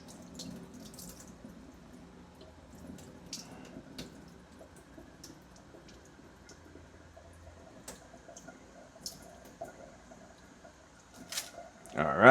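Tap water runs and splashes in a sink as rice is rinsed to wash off the starch, a soft trickling with occasional drips and clinks, fairly quiet throughout.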